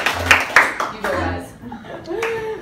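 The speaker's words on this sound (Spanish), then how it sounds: "Un aplauso para el grupo 2." Classroom applause in a Spanish lesson, brief clapping bursts mixed with students' voices and chatter, close and moderately loud before fading into talk.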